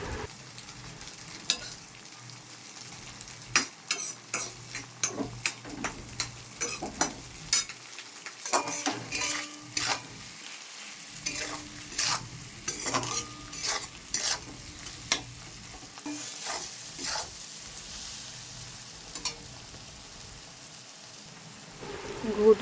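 Fried eggs stirred into spice masala in a pan for Bengali-style egg tadka: repeated scraping strokes of a spatula over a soft sizzle, irregular and close.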